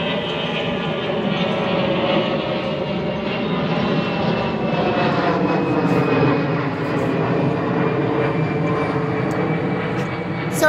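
Steady, continuous roar of an airplane passing overhead, a broad engine rumble that holds level and loud for the whole stretch.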